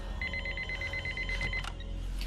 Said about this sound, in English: I'm guessing the sound of the phone was inserted in post